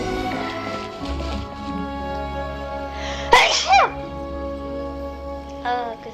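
A single sharp human sneeze bursts out mid-clip over steady game music and ambient sound, with a short trailing exhale afterward.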